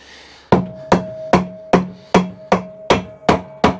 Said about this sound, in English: And with a soft blow hammer,